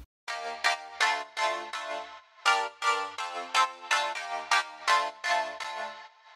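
A bright, buzzy synth layer made with Serum plays a rhythmic chord pattern, short stabs and sustained hits alternating steadily, rich in harmonics and heard alone.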